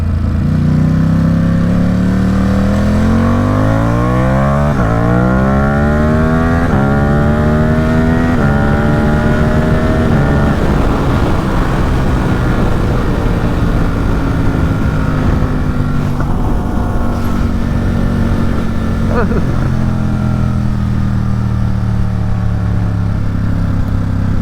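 Ducati Supersport motorcycle with a race exhaust, riding hard and quick shifting through the gears: a loud, close engine roar rising in repeated pitch sweeps with sharp breaks at each shift, steady throughout.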